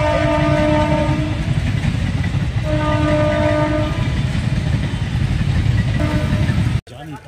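A train standing at Nabadwip station, heard as a loud, steady rumble with a sustained horn-like tone that sounds three times, and a voice talking over it before a sudden cut near the end.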